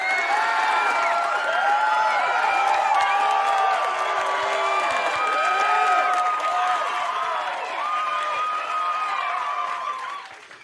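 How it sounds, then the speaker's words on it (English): Sustained crowd applause with cheering and whoops during a Christmas special livestream, mixed with many overlapping tonal voices or sounds, steady throughout before tapering at the end. "Let's give a round of applause to you."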